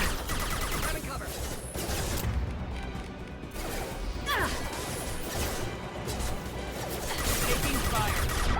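Sustained gunfire and impacts in a Mass Effect 2 firefight, a dense, loud, continuous clatter of shots and crashes that runs through the whole stretch with voices mixed in.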